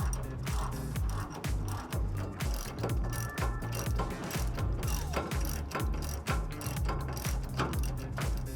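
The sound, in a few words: ratchet removing nuts from truck tow hitch bolt plate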